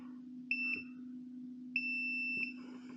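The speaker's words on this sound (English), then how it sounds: "So if it's shorted, it'll beep." Two short, bright electronic beeps from a short-circuit tester signalling a short, the second held longer, over a steady low hum.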